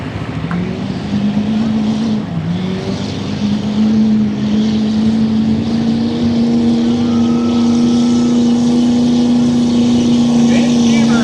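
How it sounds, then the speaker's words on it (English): A Kenworth diesel semi truck drones loud and steady at a diesel truck shootout, its deep engine note holding close and constant while an announcer talks over it. "Cody, turn around, send that Kenworth here."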